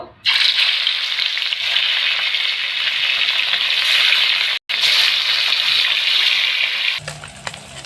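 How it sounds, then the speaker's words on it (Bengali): Katla fish pieces frying in hot oil give a loud, steady, hissing sizzle right up close, cut off by a brief silent gap partway through and softening near the end. "তেল দিয়ে মাছটা ভেজে নেব এক একটা মাছগুলি ভেজে নেব"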